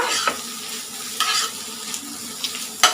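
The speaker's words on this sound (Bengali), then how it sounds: "আলু দিয়া ভাজি করছি" Potato frying with onion and green chillies in a pan, a short stretch of sizzling oil punctuated by a few scraping stirs, loud and close.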